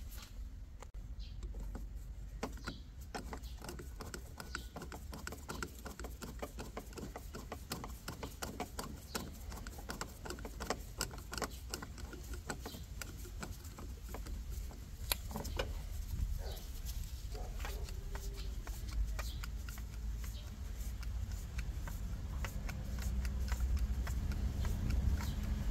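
A Toyota clutch actuator moves with a quiet, irregular run of mechanical clicks and knocks, heard close up against a low background hum.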